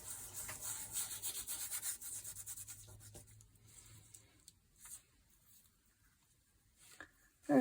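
Gold leaf rubbed by hand onto autumn leaves makes a soft, steady brushing friction for a few seconds, then fades to quiet with a few faint touches and a brief louder rustle at the end.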